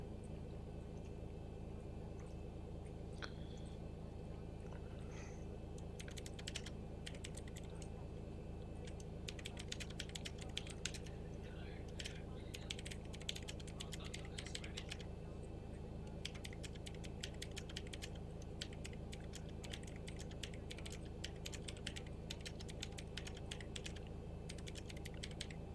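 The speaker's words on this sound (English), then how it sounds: "So when you hear me typing like that," Keys clack on a computer keyboard during a flight simulator session with the Zibo mod, faint intermittent bursts of typing over a steady low hum.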